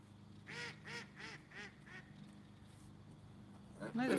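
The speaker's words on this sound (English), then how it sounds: "There's a funny duck out there." An outdoor duck gives a run of five rhythmic nasal quacks, moderately close and evenly spaced like laughter, at a carp-fishing spot, followed by a brief louder call near the end.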